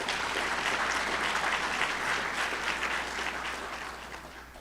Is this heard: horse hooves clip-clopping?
no